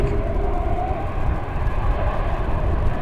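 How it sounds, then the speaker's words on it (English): A three-engine airliner roars steadily at DFW Airport, a loud, continuous low rumble and whine with no pauses, heard from a plane-spotting position. "we're getting some good sound right now from those three engines."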